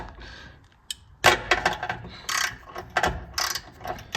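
A ratchet on a universal joint loosens a spark plug on the driver's rear cylinder of a 2019-2024 Subaru 2.5L engine. Several close, loud bursts of rapid clicking follow one another, with no talk.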